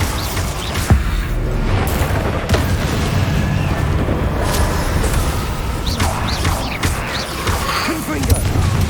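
Booming blasts from the Bombarda spell in Hogwarts Legacy, heavy thuds and rumbling debris layered over dense, loud combat noise with occasional sharper impacts.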